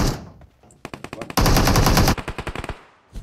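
Automatic gunfire in the mobile game PUBG Mobile: close, sharp bursts of rapid shots, then one long sustained volley, followed by more short bursts and a final isolated shot.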